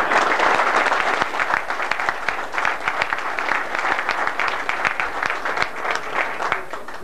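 A dense round of audience applause at a club's 75th anniversary event fills the room, many hands clapping steadily and fairly close, holding strong throughout with no pause.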